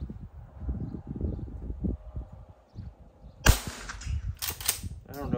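A Henry Classic lever-action rimfire rifle fires a single sharp, loud crack outdoors, followed by a few fainter snapping sounds, after a stretch of low rustling and wind.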